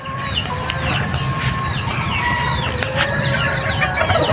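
Chickens cluck and roosters crow together at a small poultry farm with baby stags and pullets, a dense, continuous chorus of overlapping calls close by.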